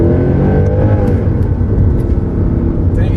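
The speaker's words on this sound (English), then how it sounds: "One of the highlights in this car definitely is that engine sound." A Mercedes-AMG C-Class Black Series V8 engine revs loudly and close up, its deep rumbling tone rising and holding steady without any speech.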